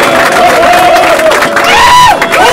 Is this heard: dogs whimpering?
no